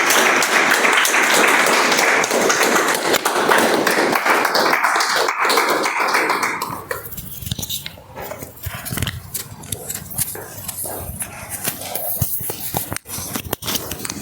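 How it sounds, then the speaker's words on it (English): A Toastmasters meeting audience applauds, a loud, dense burst of clapping that later turns into sparser, uneven claps and taps. "Please give a huge round of applause for the Table Topics Master of the Day"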